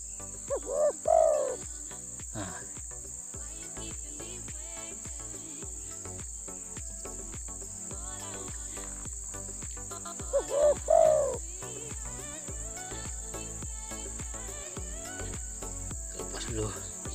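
A small bird sings in a loud burst of cooing, warbling phrases that repeats about ten seconds later, set against a constant high insect-like whine and faint background chirps.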